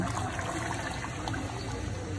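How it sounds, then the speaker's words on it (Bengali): Water pours steadily into a cooking pot just after frying, a continuous rushing, splashing wash that stays even and close throughout. "এখন আমি পানি দিয়ে দিব"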